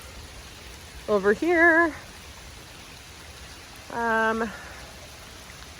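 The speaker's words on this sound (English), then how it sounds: "it's starting to rain real good." Steady rain pours over a garden in a continuous soft hiss, while a person speaks briefly twice over it.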